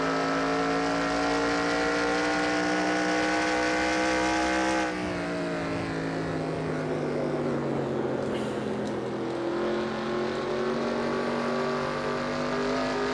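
Steady, droning engine note of stock cars circling a track in NASCAR Racing 2003, with a constant loud hum and a pitch shift partway through as the engines drop and then rebuild, no speech.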